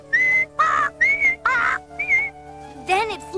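A cartoon bird whistles in a series of bright, warbling bursts, five short phrases followed by a rising, swooping trill, clear and alone.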